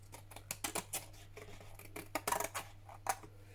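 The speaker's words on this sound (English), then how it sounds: "Let's find some scissors" Quiet, close snips of scissors trimming rough paper edges for papercraft, a dozen or so irregular crisp clicks over a faint steady hum.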